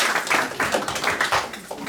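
Rhythmic hand clapping at a Bhagwat Katha devotional gathering in Melbourne, a steady run of close, bright claps keeping time over about two seconds, with no voices standing out.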